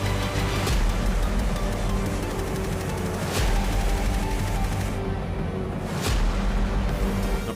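An M16/AR-15 rifle fires in a 3D animation, with three sharp, loud shots spaced about three seconds apart over a constant dense background rumble.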